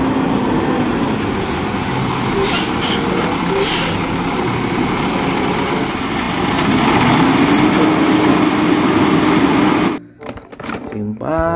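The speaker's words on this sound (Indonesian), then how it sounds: "Wow, ini ada truk sampah teman-teman." A garbage truck rumbles loudly nearby on a road, its engine droning steadily with sharp air-brake hisses early on, before the sound cuts off abruptly at the end.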